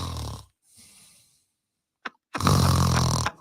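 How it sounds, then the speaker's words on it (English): Loud snoring by a person, a few drawn-out rasping snores with quiet breaths and a short snort between them, close and alone. "I don't know how many snores translates to 10 words."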